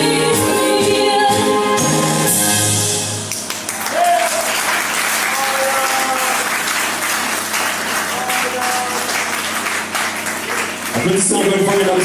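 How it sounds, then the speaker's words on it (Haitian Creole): Sustained audience applause fills a dance show hall after an American-style tango performance, loud and continuous with a brief lull midway, while an announcer's voice speaks over it and music briefly plays. "Applaudissements encore une fois, mesdames et messieurs"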